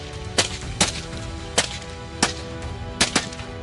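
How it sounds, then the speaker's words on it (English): Rapid gunfire during a wild boar hunt: about seven sharp cracking shots ring out in irregular quick succession, some in close pairs, over a steady background din. "gunfire erupted in rapid succession."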